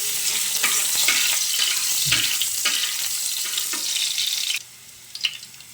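Garlic and onion sizzle loudly in a hot pan with oil, a constant bright hiss broken by a few stirring knocks, then the frying quickly drops to a softer crackle near the end.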